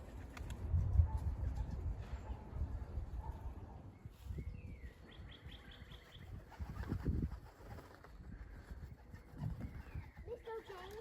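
Racing pigeons on their first fly of 2021, faint coos and flapping wings over low outdoor rumble, with a person talking at times.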